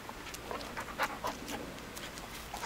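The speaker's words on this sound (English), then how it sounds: "Here goes Miley, panting like always" A dog pants rapidly and steadily outdoors, close and fairly quiet, with no talking.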